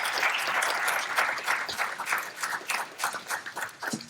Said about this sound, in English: Give the local financiers a round of applause.